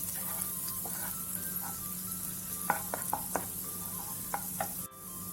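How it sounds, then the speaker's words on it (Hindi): Green chilies and ginger-garlic paste frying in a pan, giving a soft continuous sizzle with several quick spatula scrapes and clinks in the middle, fairly quiet and close, with no talking. "अब मिर्च के बाद मिर्च हमारी भून गई है, अदरक लहसुन का पेस्ट भी अच्छे से भून गया है।"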